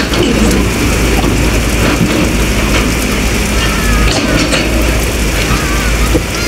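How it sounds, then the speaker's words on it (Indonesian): Heavy rain pours down loud and steady on a riverbank beside a canal dredging site where an excavator hauls out old logs, a dense constant hiss with a faint low rumble and no speech. "ini hujan beneran ya teman-teman"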